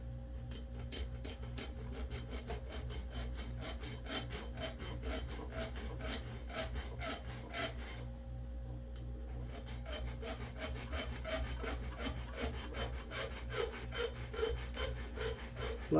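A brass end cap for a straight razor scale is filed by hand: rapid, regular rasping strokes close up, steady rhythm with a brief pause midway, over a low background hum.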